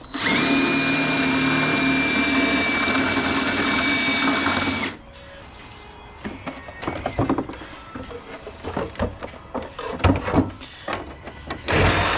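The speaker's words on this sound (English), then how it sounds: "we're gonna drill these out" A power drill boring out scrap metal, heard as a loud, steady high whine for about five seconds that then stops, followed by clanks and rattling of metal pieces being handled nearby.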